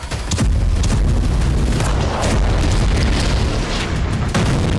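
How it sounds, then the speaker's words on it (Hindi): Rocket and missile explosions from Hezbollah fire striking Nahariya and Meron in northern Israel, a loud continuous rumbling blast with a sharp boom near the start and sustained heavy low roar throughout. "लेबनान की तरफ से हिजबुल्लाह नहारिया और मेरोन में लगातार रॉकेट और मिसाइलें दाग रहा है"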